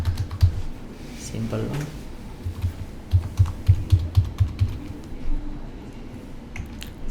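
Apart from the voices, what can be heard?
typing username and password on computer keyboard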